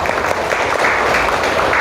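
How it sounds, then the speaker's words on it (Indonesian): A school class claps together at the end of a lesson, a brief, steady, loud wash of applause from a roomful of students. "Tepuk tangan untuk kita semua hari ini."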